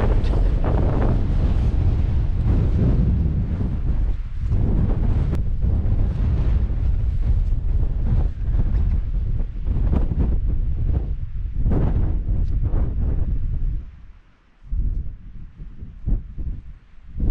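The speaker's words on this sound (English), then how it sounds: "Bit too windy though." Strong wind buffeting the microphone on an exposed Welsh mountain campsite, a loud, continuous roaring gust noise with rushing turbulence that only briefly eases near the end.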